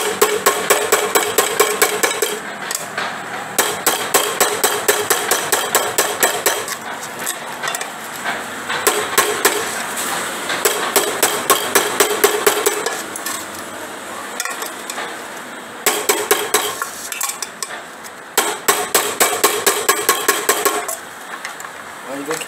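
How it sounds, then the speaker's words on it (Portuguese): A small hammer taps soft aluminium on a cookware repair in a workshop, striking in quick, regular bursts separated by pauses, close and crisp, with someone talking between and over the blows. "Agora eu posso tá acertando com o martelinho. Esse alumínio está bem molinho"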